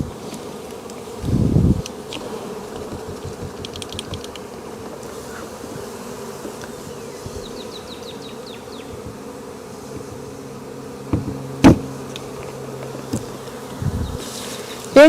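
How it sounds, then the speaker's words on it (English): A swarm of bees buzzing around a hive box, a continuous low droning hum from many insects close by, with a few louder bumps and knocks breaking in. "Now there's still a ton of bees in the box"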